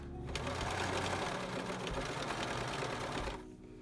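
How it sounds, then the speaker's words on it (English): A sewing machine stitches fabric for a fitted face mask, a rapid continuous mechanical whir and clatter running close and loud before stopping near the end. "I start at the end because I treat it almost like a stay stitching."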